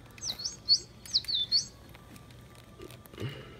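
A small motorized toy bird with wires chirps a handful of short, high tweets in quick succession, faint and close, then falls quiet under low background noise.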